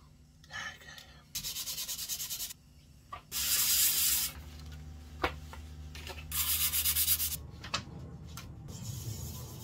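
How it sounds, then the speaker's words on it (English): Sandpaper rubs back and forth across a violin fingerboard in a workshop, close and fairly quiet. Several separate raspy strokes of a second or more each are broken by soft taps and pauses. "that's gone through all the sandpapers. It's nice and finely sanded"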